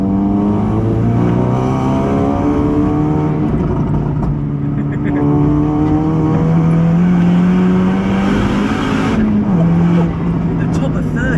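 Tuned VW Polo GTI making about 484 bhp accelerating hard through third gear, a loud continuous engine roar rising steadily in pitch from inside the car, with people talking over it.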